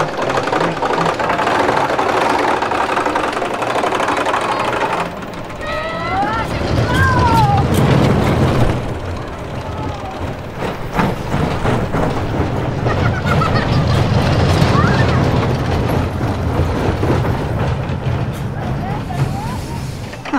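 Loud rumbling ride noise with rattling and clattering, wind, and excited shouting and screams from riders throughout a run on the Runaway Mine Train roller coaster at Flamingo Land.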